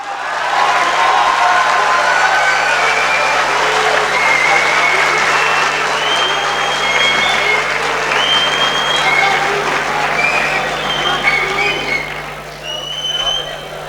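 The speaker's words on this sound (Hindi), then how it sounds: "भरपूर तालियों के साथ इस्तकबाल कीजिए" Sustained audience applause at an annual mushaira poetry gathering, a dense, loud wash of clapping that holds steady with a few faint calls and a slight fade at the end.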